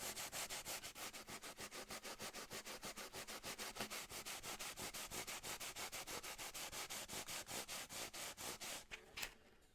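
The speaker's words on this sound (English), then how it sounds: "Just sanding away." Steady rhythmic rasping of sandpaper rubbed back and forth on the sharp fret ends of a Bigfish concert ukulele, dozens of even strokes, close and quiet.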